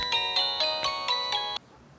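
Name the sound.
phone ringtone ringing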